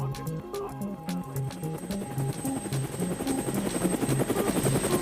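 A twin Huey military helicopter thumps steadily with fast, rhythmic rotor blade slaps over a whining turbine drone, the beating growing louder and denser toward the end.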